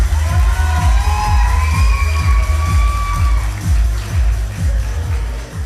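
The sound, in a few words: crowd applause for fighter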